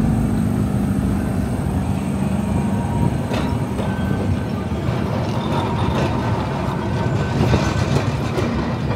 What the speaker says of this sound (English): it even gives off like the steam, like a normal train.